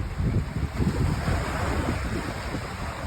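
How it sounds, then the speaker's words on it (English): Ocean waves at high tide wash into a harbor with a slipway, a steady broad rush of surf mixed with gusty wind buffeting the microphone, and no one speaking. "You can see the waves in the background."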